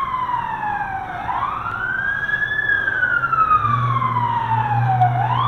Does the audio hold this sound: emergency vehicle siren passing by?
yes